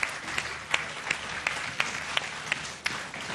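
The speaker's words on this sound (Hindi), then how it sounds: "में जोरदार तालियां उनके लिए।" A studio audience at a talk show claps together, steady applause with rhythmic accented beats standing out, moderately loud and without talk.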